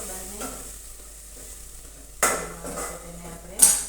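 Spices hit hot oil for a vaghar tempering, giving two sharp bursts of loud sizzling over a quieter simmering crackle, with a little stirring between them.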